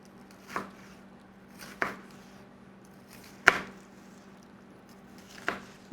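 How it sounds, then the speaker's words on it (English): Cold onions chopped with a knife on a board in a home kitchen, four separate sharp chops spaced about a second or more apart, close and clear over quiet background, with no talk. "Not the best way of chopping onions."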